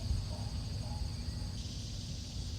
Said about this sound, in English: Right now in Texas, cicadas going off.